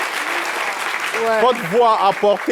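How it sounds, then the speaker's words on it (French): A studio audience on a French TV show gives a burst of applause that fades after about a second as a host starts speaking over the last of it. "Est-ce qu'on peut applaudir pour ceux qui sont là-bas?"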